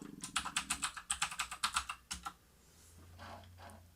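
Rapid bursts of computer keyboard typing, about a dozen close, crisp keystrokes in quick rhythm as a folder name is entered, then a short pause and a softer final tap, with no talking.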